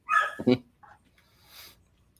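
A household dog gives a sharp double bark up close, followed by a soft whimper and a faint, breathy yip trailing off into quiet.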